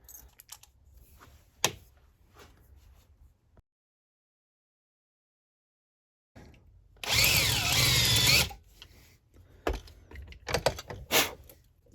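A power drill bores and tapers a hitch-pin hole in a scrap air tank being built into a modular tank car, heard as one loud, steady burst of about a second and a half, set between quieter workshop clatter and tapping.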